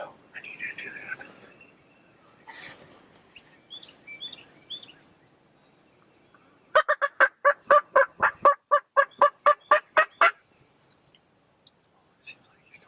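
Wild turkeys gobble during a Kansas archery turkey hunt, a long rapid string of loud gobbling bursts in the middle, with softer calls and hushed whispering around it outdoors.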